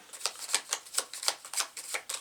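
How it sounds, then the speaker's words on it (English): Arkham Horror encounter cards being riffle-shuffled, a steady run of quick papery flutters repeating about every quarter second, close and soft with no talk. "Grab top 2 cards and begin shuffling."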